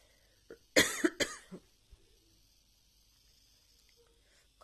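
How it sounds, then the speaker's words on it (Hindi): A woman's short coughing fit in a quiet home, two or three sharp close coughs followed by a softer throat sound, then near silence. "खांसी भी हो गई।"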